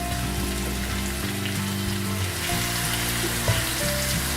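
Malvani chicken sukka masala sautés in a pan, a low steady sizzle with occasional light taps and scrapes of stirring.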